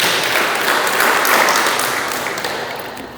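A church congregation applauds during a sermon, a dense, loud wash of clapping that swells and then slowly fades.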